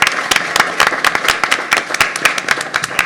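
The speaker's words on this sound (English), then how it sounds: "if I could have a round of applause for Chief Busey" Applause at a village board meeting: a small crowd claps steadily and loudly, with sharp individual claps standing out throughout.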